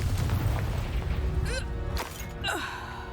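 In the video game Hogwarts Legacy, a Confringo fire spell goes off with a deep, rumbling blast, followed by sweeping whooshes and whistling magical effects that fade out over a few seconds.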